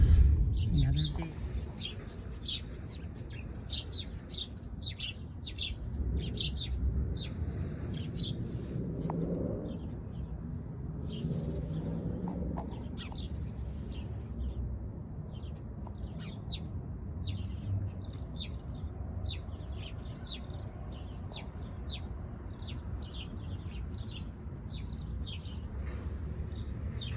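Small birds chirp and tweet repeatedly at a distance on a spring day in Fort McMurray, Alberta, quick high calls scattered throughout over a low background rumble.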